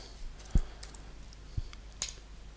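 A few sparse keystrokes and clicks on a computer keyboard while editing Java code, three distinct taps spaced apart, close and quiet.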